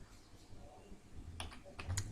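Computer keyboard keys tapped while typing Python code, a few soft clicks in quick bursts, near and fairly quiet over light background noise.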